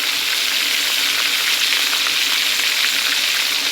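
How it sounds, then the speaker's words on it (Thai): Fish sizzles hard in boiling oil for Thai-style fried fish, a loud, steady, dense crackle with no pauses and no voices. "แดงว่าน้ำมันเดือดใช่ไหมพี่น้อง"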